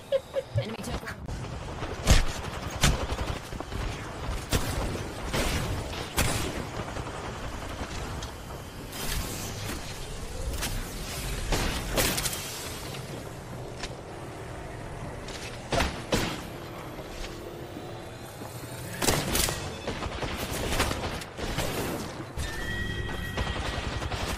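Gunfire in the Apex Legends battle royale game, sharp rapid shots and bursts cracking repeatedly over a busy mix of impacts and mechanical clatter, with players talking over the action.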